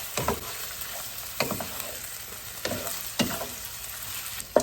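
Ground beef searing with onions in olive oil over low to medium heat, a soft steady sizzle broken by several distinct stirring scrapes at a moderate distance, with no talking.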